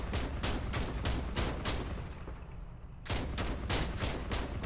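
Armored vehicles in Crossout trade rapid gunfire: rhythmic bursts of heavy shots, a brief pause, then another steady volley, fairly loud with little talk.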